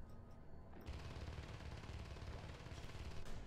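Sustained rifle fire in Natural Selection 2, a dense, continuous rattle of automatic shots that starts abruptly and holds steady, fairly faint overall with a sharper burst near the end.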